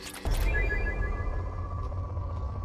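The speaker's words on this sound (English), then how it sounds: "Launching probe." Probe launch in the Mass Effect 2 video game: a sudden whooshing burst that settles into a sustained low rumble with fading tonal pings, loud and close.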